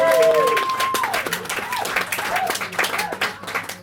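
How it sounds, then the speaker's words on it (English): A small crowd at the end of a live gig at the Green Note claps and cheers steadily, with a lingering guitar note and a voice briefly heard amid the applause. "let me give him a massive round of applause"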